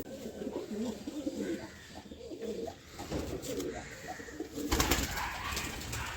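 Homing pigeons cooing during training, soft repeated low coos in a steady rhythm, fairly quiet and close, with faint background noise and a brief rustle or wing flutter toward the end.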